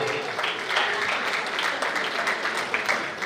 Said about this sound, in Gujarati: જોરદાર તાળીઓથી આપણે વધાવી લઈએ